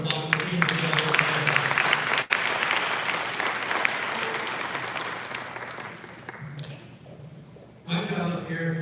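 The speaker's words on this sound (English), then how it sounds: "How about a round of applause for the team together?" Audience clapping for the team at an accelerator program graduation evening, a dense sustained round of applause from a crowd indoors, fading out before a voice speaks at the end.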